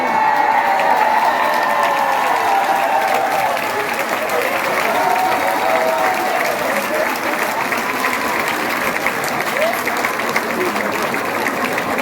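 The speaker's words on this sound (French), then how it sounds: "Il arrive, applaudissements." An audience at the Vibrato 2024 event in Le Levron applauds steadily and loudly throughout, with crowd noise and a voice speaking over the clapping.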